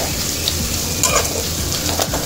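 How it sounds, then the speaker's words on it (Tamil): Onions sautéing in a pan for chicken gravy, a continuous hiss of frying with a few light scraping stirs on the pan. "இப்போ இது வந்து நல்லா வதக்கி விட்டுருவோம்"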